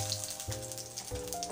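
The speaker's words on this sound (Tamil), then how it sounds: "அதை தாளிச்சிடலாம். கடுகு போட்டுக்கலாம்," Mustard seeds crackle and sizzle in hot oil for a tempering, a brief, faint spattering hiss that sits under steady background music.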